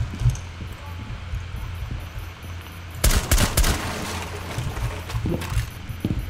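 Gunfire in Rainbow Six Siege on PC crackles in a dense burst of close, loud shots in the middle, with a few scattered shots before and after, while a player talks.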